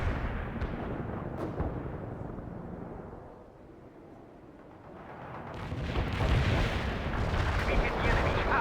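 Heavy artillery barrage in the video game World in Conflict: dense, rumbling explosions and booming impacts roll continuously, easing briefly in the middle before swelling loud again near the end.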